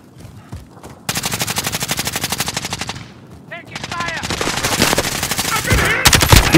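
Rapid automatic gunfire from a first-person battle-royale shooter game, loud sustained bursts with short gaps, a lull mid-clip, then renewed heavy fire mixed with game effects.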